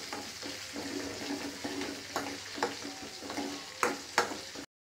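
Crushed garlic sizzles in a hot pan while a spoon stirs it, a steady close frying hiss broken by scraping strokes and a few sharper clacks.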